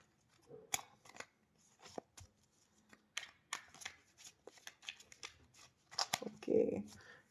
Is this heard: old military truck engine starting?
no